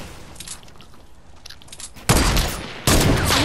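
A drum gun firing in the video game Fortnite: after a quieter stretch, two loud, sustained bursts of rapid automatic fire hit close and hard, the second following moments after the first.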